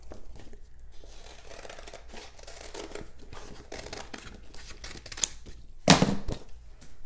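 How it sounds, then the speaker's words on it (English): Paper gear stencils are cut out by hand for a steampunk trunk makeover, giving steady close snipping and crinkling with a sharp louder rip near the end, no talking. "I'm going to cut them out."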